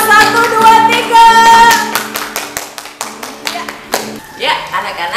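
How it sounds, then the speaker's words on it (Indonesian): Children and adults clapping together at a children's church worship service, a burst of rhythmic applause mixed with singing voices that thins into scattered, slower claps before fading under nearby chatter. "Berikan tepuk tangan yang meriah untuk Tuhan Yesus."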